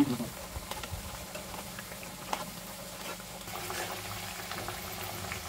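Whole-lentil pakoras dropped one by one into hot oil, a soft, steady bubbling sizzle with light crackles, fairly faint and close, alone without talk.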